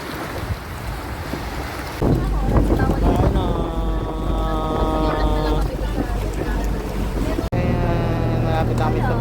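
Engine drone and heavy wind buffeting aboard a boat at sea near Apo Island, Philippines, loud and continuous, with voices talking under the roar.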